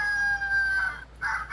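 A battery-powered toy rooster from a My Life As farm playset gives a short electronic cock-a-doodle-doo, thin and tinny, in two quick bursts close by.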